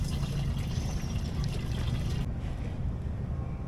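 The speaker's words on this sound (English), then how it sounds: "first order of business, top up the fuel" Fuel pours from a gas can into the tank of a 21-foot sailboat in a steady, close, washing stream under light wind, with no talk.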